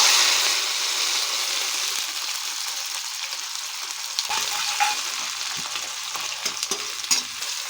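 Dried chili, onion, tomato and green chili fry in hot oil as a steady, close sizzle, with a spoon stirring and scraping in the pan now and then.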